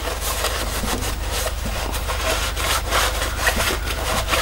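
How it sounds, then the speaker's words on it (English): An end mill cuts metal on a milling machine while modifying a jump ring saw, a continuous grinding, rasping chatter over a steady low motor hum, close and even throughout. "we'll take a cut just with an end mill or something"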